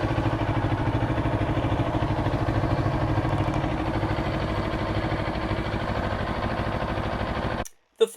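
A CFMOTO 650NK motorcycle engine hums steadily and evenly while the bike is ridden, holding an even drone that stops abruptly near the end.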